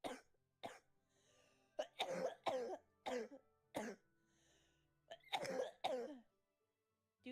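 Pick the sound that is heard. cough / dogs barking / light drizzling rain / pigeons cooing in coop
cough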